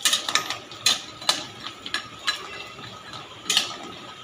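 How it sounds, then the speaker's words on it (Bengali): Sun-dried lentil dumplings (bori) frying in oil in a wok over a lowered gas flame: repeated sharp scrapes and clinks of a spatula stirring against the metal, irregular and close, over a faint sizzle, with no talking. "এটাকে এবার লাল লাল করে ভেজে দেবো।"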